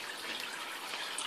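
Water trickling down a Zip Grow hydroponic tower, plumbed in from the top and spreading over a long scourer, making a soft continuous hiss of fine splashing droplets.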